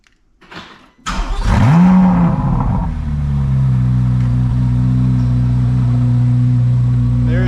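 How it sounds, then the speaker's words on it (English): A Chevrolet C8 Corvette Z06 cold-starts with a sudden loud catch and a sharp rev flare, then settles into a steady, deep, rumbling high idle. "Let's get a proper cold start."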